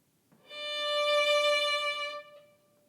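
A single tender violin note played in a modern style, bright and sustained, swelling in over half a second, holding steady, then fading, alone and close.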